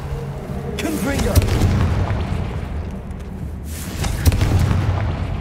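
A fiery Confringo spell blast in the game Hogwarts Legacy, a booming burst with crackling roar, followed by a second similar blast a few seconds later, while a voice speaks over the game sounds.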